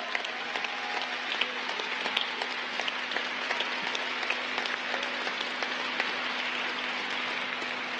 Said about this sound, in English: Can we give one more round of applause for everyone who participated in this